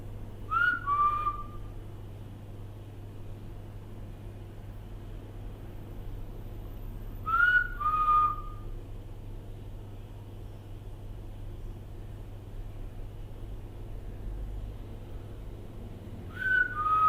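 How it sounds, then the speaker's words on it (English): Three separate whistles, each a short two-note call repeated a few seconds apart over a steady low hum, fairly distant and clear. "Like a deep whistle."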